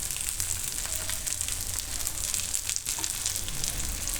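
Sabudana appe frying in oil in an appe pan, a continuous close bubbling sizzle with faint stirring clicks, no voices.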